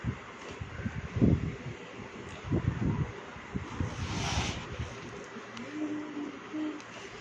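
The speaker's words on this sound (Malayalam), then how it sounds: "കാറ്റുണ്ട്" Gusting wind rumbles against the microphone in uneven bursts, with a faint rushing hiss and a few distant low sounds in the background.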